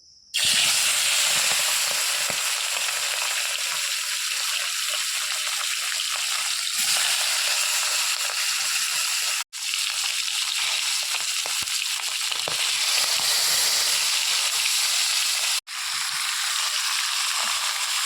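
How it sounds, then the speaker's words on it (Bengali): Large fish sizzling in hot mustard oil in a pan for a spicy mustard-chilli curry, a steady loud crackling hiss that continues without pause, with two brief breaks. "তেল গরম হয়ে গেছে এর মাছগুলো দিয়ে দেবো"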